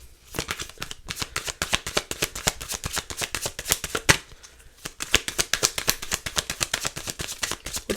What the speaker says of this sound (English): Let's pull one more card.